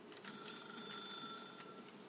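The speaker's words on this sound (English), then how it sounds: "Maybe it just keeps ringing. Man, will this phone ever fucking ring out?" Telephone ringing in The Stanley Parable video game, a steady electronic ring repeating continuously and fairly quietly with no talk over it.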